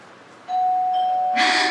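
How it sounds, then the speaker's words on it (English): Doorbell ringing in a stage play, a single clear sustained electronic tone followed by a second chime burst, loud and close in a quiet room. "There's the bell. At least that still works."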